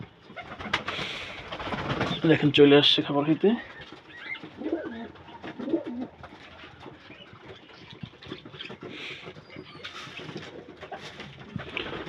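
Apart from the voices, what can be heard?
domestic and racer pigeons cooing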